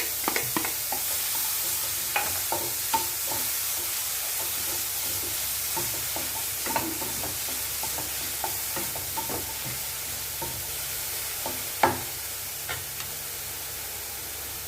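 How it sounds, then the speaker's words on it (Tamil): Broccoli with ground pepper sizzles and crackles steadily in a hot pan, with scattered pops and stirring scrapes throughout. "இது நல்லா வதங்கி வரட்டும்"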